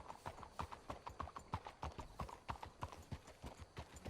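Horses' hooves clip-clop in a steady, quick rhythm in Red Dead Redemption 2, fairly quiet and continuous, with no talking over them.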